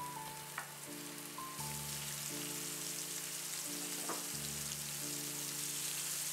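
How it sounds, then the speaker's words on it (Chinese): Scallops pan-frying in oil over medium heat, a steady soft sizzle running throughout with faint tonal hum in the background, no talk. "平底锅中火，加点油，把圆贝均匀地按顺序摆好。"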